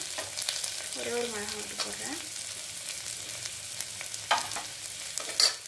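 A single green chili sautés in a pan for veg kurma, giving a steady close sizzle with scraping stirs and a few sharp utensil knocks, and a brief voice partway through.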